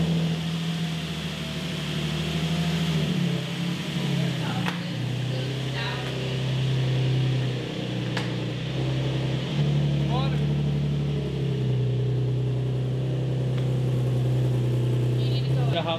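A Nissan 240SX engine idles as it warms up after a crash, a steady low hum that stays even with small shifts in pitch, heard from inside the car.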